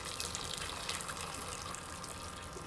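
Water pours steadily into a pot with red wine for braising octopus, a continuous close gushing splash that runs unbroken throughout, with no talking.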